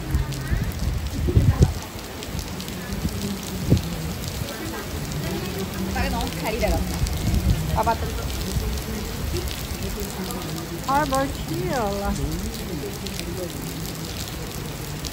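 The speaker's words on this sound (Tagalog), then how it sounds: "umuulan. Pumapatak ang ulan." Steady rain patters throughout, with voices talking over it and a few brief sharper knocks near the start.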